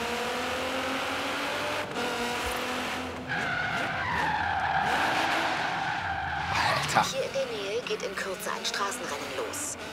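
A car engine in Forza Horizon 3 bouncing off its rev limiter with a high, strained tone, alongside skidding tires; loud and close, the sound builds and wavers, and a voice talks over it.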